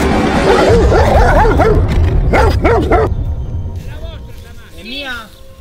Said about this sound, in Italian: I cani sono buoni?